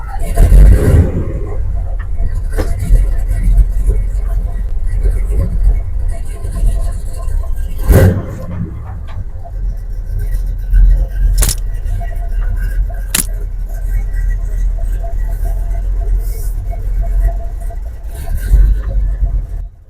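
A 1968 Chevy C10 engine running with a low, steady rumble throughout, punctuated by a few sharp clanks and knocks, while people talk nearby.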